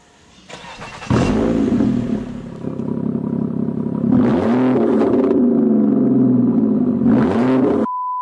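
V6 engine of an armored car, the same engine as a Camaro, revs hard through a dual exhaust in several loud rising bursts that fall back to a steady idle, close up with no talking.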